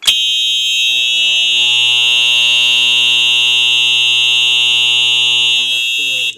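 A Wheelock EHS-DL1 fire alarm sounds during a test with a loud, piercing, continuous electronic tone that holds steady for about six seconds before cutting off abruptly.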